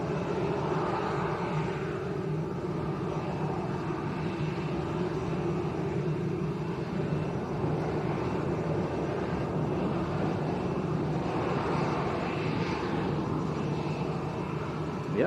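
Airliner taking off along the runway at Lanzarote Arrecife Airport, a broad, steady jet engine roar heard from a distance that holds at a constant level throughout.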